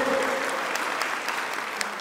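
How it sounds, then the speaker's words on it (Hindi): An audience at a Rawa Rajput community gathering in India claps steadily throughout, a dense, even wash of applause with scattered sharper claps. "मैं तालियां चाहूंगा इसके लिए आप सब लोगों का"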